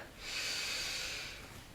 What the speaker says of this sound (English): breathing to fill up